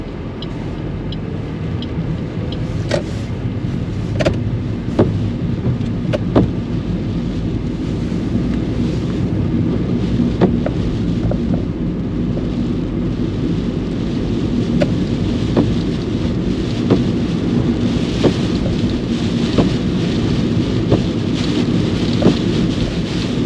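Steady rain drums on the roof and windscreen of a car during a driving lesson in Highbrook, Auckland, a dense continuous wash with scattered louder drops, heard from inside the cabin with no talking.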